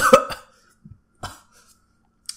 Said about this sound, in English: sorry if I'm coughing really loud